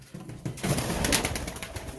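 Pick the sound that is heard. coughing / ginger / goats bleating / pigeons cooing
pigeons cooing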